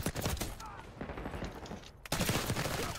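Gunfire in Black Ops 6, rapid overlapping bursts of shots that ease off before a louder volley bursts back in near the end.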